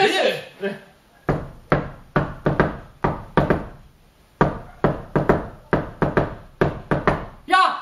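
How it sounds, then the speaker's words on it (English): Knuckles knock on a hard surface in short rhythmic bursts, close and loud, tapping out hymn tunes with brief pauses between phrases; a voice speaks briefly at the start. "Knocking is fun."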